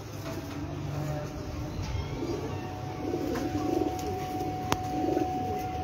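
A pigeon, mother of a champion racing pigeon, gives several soft, low, rolling coos on a rooftop. The coos rise over a steady background hum.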